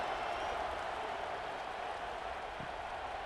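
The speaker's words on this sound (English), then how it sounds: "this crowd is buzzing after that last score" Steady, dense roar of a stadium crowd in a College Football 26 game of Kansas State vs Utah, buzzing after a touchdown, loud and continuous with no break.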